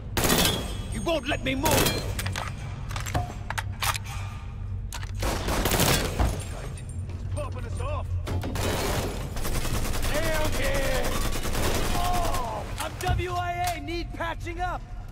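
Gunfire in the Stones Unturned video game, bursts of rapid shots and heavier volleys crackling close by through a tense fight, with people shouting over the shooting.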